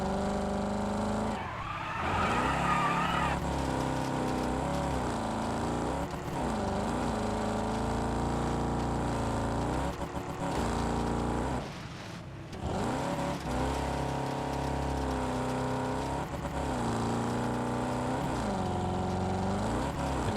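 Car engine in the racing video game Wreckfest 2, with an oil leak threatening overheating, drones and revs steadily and loudly throughout, rising and dipping with gear changes, with a brief tire squeal early on and no talking.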